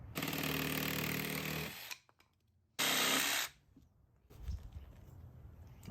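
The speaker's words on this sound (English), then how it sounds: "I'm gonna go with the jigsaw. The material's not too thick, so this should cut right through it." A jigsaw cuts thin vinyl side-skirt material for an Infiniti Q60, giving a loud close buzzing burst, a pause, a second short burst, then quieter handling noise.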